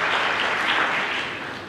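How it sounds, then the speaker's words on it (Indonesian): A church congregation applauds during a sermon, a dense, continuous wash of many hands clapping that holds loud throughout and eases slightly at the end. "Berikan tepuk tangan yang meriah"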